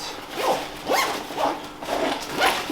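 A zipper pulled in several quick strokes seals a bag, each zip sharp and close, repeating in an uneven rhythm.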